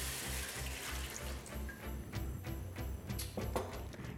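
Water pours into a pot to start a sweet potato soup, a faint, steady splashing stream running under a soft, rhythmic low thumping in the background.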